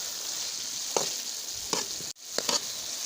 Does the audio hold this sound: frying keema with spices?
yes